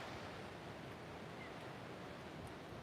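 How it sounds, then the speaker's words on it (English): Ocean waves rolling in along an oceanfront shore, a continuous broad wash of surf and wind noise, steady and enveloping with no distinct breaks, no talking. "Steady as the waves that are rolling in."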